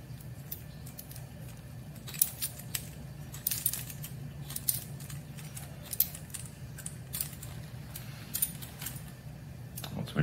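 Metal keys jangle and clink repeatedly as they are attached to a scrap-wood block key holder, a series of sharp bright taps and rattles up close over a faint low hum.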